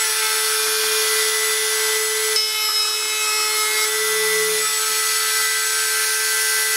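A power chamfering tool cuts a hefty chamfer into plastic, a loud steady motor whine with a constant high-pitched tone and a brief change in pitch as the cutter bites.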